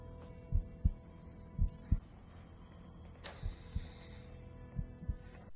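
A heartbeat in a film thumps in slow, regular pairs of deep, heavy beats over a low hum, with one sharper accent in the middle.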